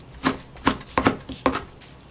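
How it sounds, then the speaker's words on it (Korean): Knife chopping Dolsan mustard greens into roughly one-centimetre pieces on a board: five distinct, close chops in an uneven rhythm, each a sharp crisp thud, with no talking. "이렇게 먹기 좋은 크기로 그냥 저는 한 1cm 정도로 자르겠습니다."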